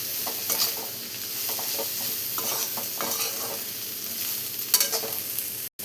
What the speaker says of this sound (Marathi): हे बघा किती छान असं मस्त मिक्स करून घेतले आता कोबी